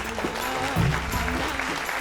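Applause from a studio audience on a televised singing reality show: a short burst of dense, steady clapping lasting about two seconds, with a voice faintly audible beneath it.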